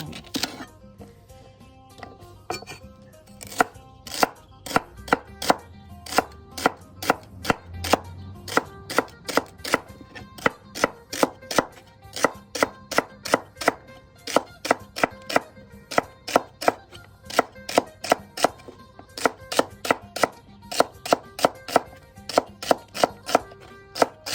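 A knife chops through celery stalks on a cutting board in a steady run of crisp, close thuds, about two cuts a second with brief pauses, heard alone without talk.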